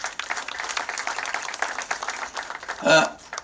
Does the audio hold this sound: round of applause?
yes